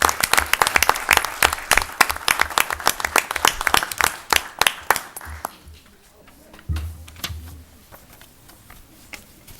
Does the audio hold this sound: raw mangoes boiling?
no